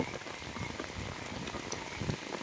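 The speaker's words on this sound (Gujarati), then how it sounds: "ફૂલ વરસાદ છે ભાઈ, હજી ચાલુ છે, આખી રાતનો વરસ્યો છે" Steady downpour over a rural village after a night of rain with thunder, a thick even patter and hiss of drops on the ground, close and continuous with no talk.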